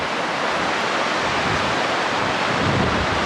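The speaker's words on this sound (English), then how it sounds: "We've made it to the Feather River. That looks awesome. This is the middle fork." Middle fork of the Feather River rushes past in a constant broadband roar, loud and steady with a touch of wind buffeting, no voices.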